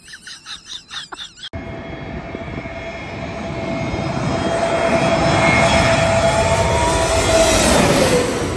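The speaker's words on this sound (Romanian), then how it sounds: "Nu, e un avion." An airplane passes overhead near the Greek island of Skiathos, its engine roar swelling steadily and staying loud to the end after a brief burst of wind buffeting at the start.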